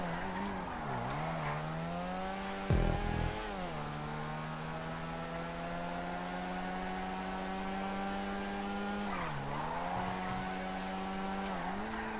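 A Rune Cheburek car in Grand Theft Auto 5 revs hard through corners, its engine note dipping and climbing with gear changes, one sharp burst of tire squeal partway through, loud and steady without talk.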